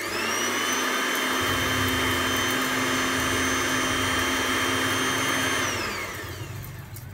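A loud, steady electric grinder whirs for about six seconds as it pulverizes moringa leaves into a fine powder, then winds down near the end.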